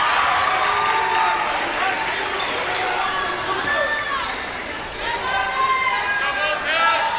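A crowd at a high school volleyball match for Lyman fills the gym with steady cheering and chatter, while sneakers squeak sharply on the court. A commentator talks over the noise.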